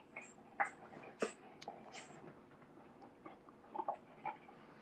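Faint, high squeaks come in scattered pairs from a squeaky toy ball a dog is chewing, along with soft gnawing and rustling in a quiet room.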